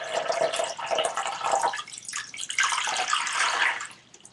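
Water poured out of a container during a simple home science experiment makes a steady splashing, gurgling stream for about four seconds, tapering off at the end.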